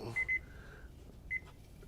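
Kitchen cooking timer going off while a steak cooks, two quick clusters of high electronic beeps, then a single short beep pair a second later, over quiet background.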